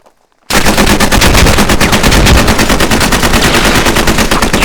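Sustained, loud automatic gunfire from the video game Squad erupts after a brief near-silent moment, a dense continuous rattle of machine-gun bursts filling the rest of the clip.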